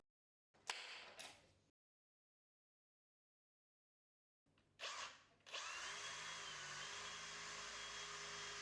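A power drill bores 4mm screw holes for a patio bolt lock, first in a couple of short bursts, then after a silent pause in a brief spin-up followed by a long steady whine, close and loud.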